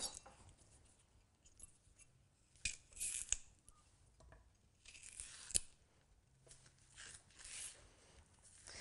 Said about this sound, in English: all you do with a banana, to make banana puree, is simply peel it